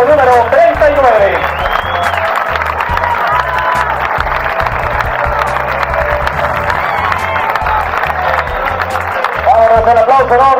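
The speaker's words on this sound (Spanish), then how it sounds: "el aplauso enorme de Chile y de Argentina en esta Ford Fiesta R5" At the Rally León 2018 awards ceremony, a large crowd applauds and cheers for the Chilean-Argentine crew of the number 39 Ford Fiesta R5, loud and continuous, with whoops and shouts over a thumping music beat and an amplified voice talking.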